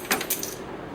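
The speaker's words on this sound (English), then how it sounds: "Damn, I dropped the keys." A set of keys drops and clinks onto a hard surface in a TV sitcom scene, with two quick metallic jangles close by and a brief rattle.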